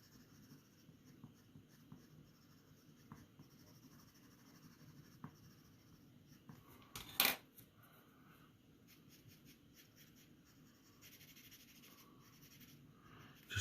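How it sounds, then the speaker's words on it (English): A 2B pencil shades steadily across paper in a soft, continuous scratchy rub, close and quiet, with one brief sharper scrape midway. "still using a 2B pencil"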